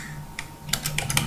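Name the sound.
typing numbers on a computer keyboard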